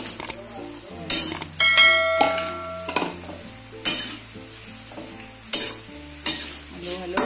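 Sliced sweet potato (kamote) cooks in hot oil, giving a steady sizzle and bubbling under repeated stirring and clinking utensil taps, with a low background hum throughout.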